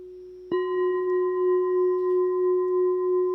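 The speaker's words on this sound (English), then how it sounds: "it is going through the cathedral reverb now" A synth tone from an Ableton template starts abruptly and holds as a steady pitched note with clear overtones, washed in a long cathedral reverb that swells gently, loud and alone.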